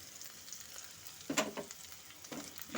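Dried curry leaves stirred into mushrooms frying in a pan, a faint steady sizzle broken by a few louder scraping stirs.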